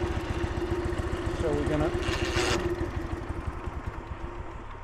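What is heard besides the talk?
1976 Dnepr MT 9 motorcycle engine running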